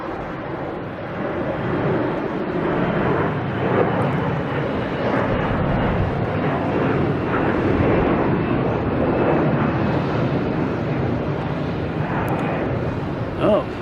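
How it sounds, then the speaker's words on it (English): A Delta Airlines A321 airliner takes off at night, a broad rising roar of jet engines that swells and holds for several seconds before easing slightly. Wind buffets the microphone, and speech is faintly present. "we have another Delta Airlines taking off to Fort Lauderdale,"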